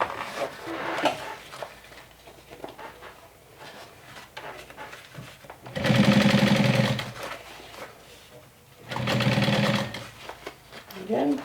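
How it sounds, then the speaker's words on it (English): A sewing machine runs in two steady bursts while stitching the straight edge of a fabric bag, loud and close, with a person talking quietly between the runs. "Again, just sewing the straight edge."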